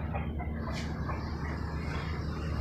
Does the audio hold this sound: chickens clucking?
yes